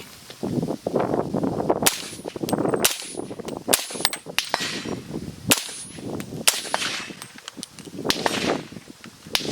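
A suppressed PSA JAKL rifle in 300 Blackout firing several sharp, close reports spaced a second or so apart, each a crisp crack with a quick decay, with a few fainter clicks and clanks between shots.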